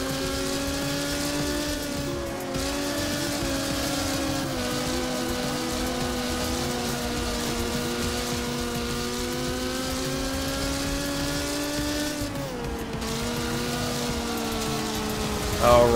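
A car's engine drones steadily in Wreckfest, its tone rising and falling gently as the revs shift, with a brief dip near the end under continuous road and tire noise.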